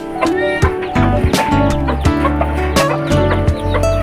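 Crossbreed chickens, a mix of Rhode Island Red and native stock, cluck close by in quick bursts and overlapping calls, busy and loud throughout.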